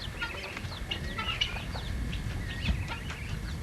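Bantam hens and a cock cluck and chatter softly together at close range, scattered short calls over a low outdoor rustle with no talk.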